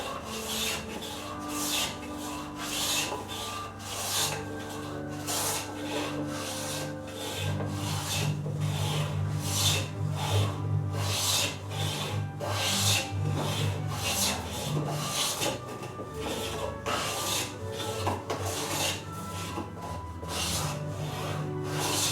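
A 3/8 inch roundover is hand-shaped on cherry wood, close rhythmic rasping strokes repeating about twice a second over a low continuous hum.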